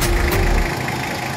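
A Mitsubishi Adventure's 2.5-liter 4D56 single overhead cam diesel engine idles with a steady, close, low rumble and no talk over it.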